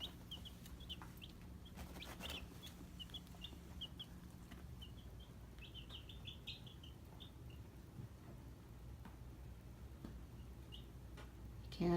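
Young chickens kept in a baby pool brooder cluck in soft, scattered bursts, a faint indoor sound with a low room hum beneath and no talking.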